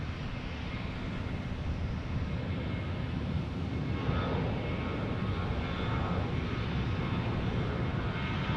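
An airliner's engines rumble steadily at Tampa International Airport, a broad, moderately distant roar that holds for several seconds without talk.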